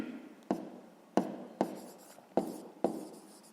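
A pen writes out a fifth-grade maths solution on paper, giving five crisp, separate strokes and taps at uneven intervals, each fading quickly, alone and close.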